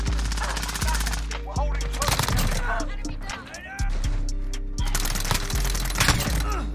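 Uzi submachine gun fire in a video game: rapid repeated bursts of close, loud shots with brief gaps between them, while a voice talks over the action.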